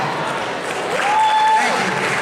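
An audience claps after a motivational talk, a broad wash of applause under a voice that cuts in briefly.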